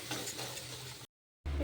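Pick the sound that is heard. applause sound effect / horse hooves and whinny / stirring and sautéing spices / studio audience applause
stirring and sautéing spices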